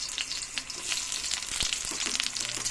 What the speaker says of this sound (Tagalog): Mix natin guys ang sibuyas.